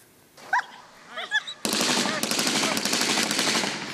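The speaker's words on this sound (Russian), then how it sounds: "Звуки выстрелов не должны отвлекать собаку от цели" At a dog training competition in Yaroslavl, rapid bursts of gunfire rattle loudly after a few short dog yelps and whimpers, the shots continuing in a dense, crackling stream.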